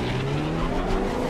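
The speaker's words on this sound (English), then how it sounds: "At our test track, the Z4 sprang off the line with little turbo lag" A BMW Z4 28i with a turbocharged four-cylinder and six-speed manual launches hard at a test track, its engine note loud and steady throughout with a faint hint of tire scrub.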